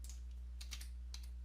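Computer keyboard keys tapped while entering a Windows command-line command, a few quick light clicks in two short bursts over a steady low hum, close and faint with no talk.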